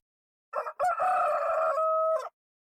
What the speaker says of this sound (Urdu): جب صبح سورج نکلتا ہے تو اس کے ساتھ کیا کرتے ہیں روسٹرز؟ وہ آذان دینا شروع ہو جاتے ہیں، جیسے دے اسٹارٹ ٹو کرو